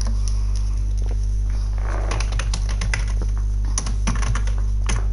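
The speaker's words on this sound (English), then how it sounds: "I said I'm typing something up" Rapid, irregular clicking of a computer keyboard being typed on in bursts, fairly close, over a steady electrical hum with no talking.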